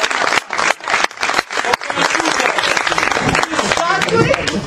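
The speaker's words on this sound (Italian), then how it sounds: "Grazie, un applauso!" An audience at an improvised theatre show claps loudly, with choppy bursts at first that build into steady applause, while voices and cheering mix in over the top.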